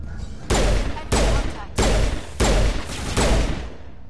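Five loud, close bursts of automatic gunfire in a Mass Effect-style shooter, each lasting about half a second and spaced evenly with short gaps between them.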